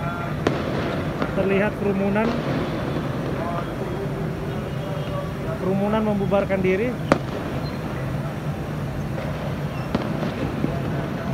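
From a 16-storey rooftop over night-time Jakarta during an October 2020 protest, police fire gunshots and tear gas. Several sharp, distant cracks and bangs are scattered through the clip under a reporter's steady commentary and the hum of the crowd.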